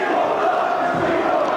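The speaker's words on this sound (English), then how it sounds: "the crowd are already chanting, "We want blood," before the match has even begun" A wrestling crowd at a Frontier Wrestling Alliance event in London chants "We want blood", a dense, steady roar of many voices filling the hall.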